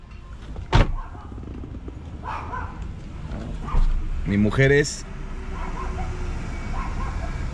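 A pack of dogs gives a brief burst of yelping barks partway through, fairly close, amid people talking and general outdoor background noise.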